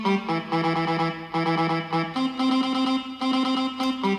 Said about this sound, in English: It sounds like a really ugly saxophone